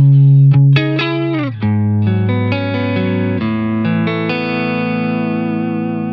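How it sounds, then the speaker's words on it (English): Electric guitar played through a Retrosonic compressor pedal in a pedalboard switcher rig, a loud continuous phrase of picked notes and sustained chords with a smooth, even level and no talking. "here's the compressor."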